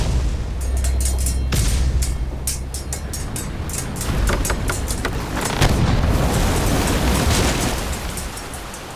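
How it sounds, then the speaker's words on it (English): Cannons fire in a sea battle: repeated deep booms and sharp blasts over a continuous roar of chaotic noise, loud and close, with no talk. "The Black Tempest bore down on the gull, her cannons roaring as grappling hooks tore through sails and railings"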